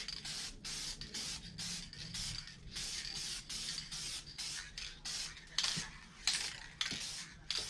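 Spray paint laid in a light coat on a 2018 Harley-Davidson Sport Glide Road Warrior fairing: a series of short, close hissing bursts separated by brief pauses, with a few light clicks and knocks toward the end.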